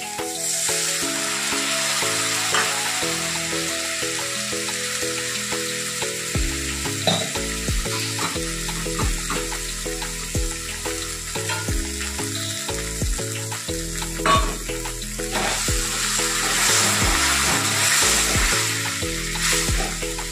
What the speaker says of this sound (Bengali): সর্ষেটা ভাজা ভাজা হয়ে গেছে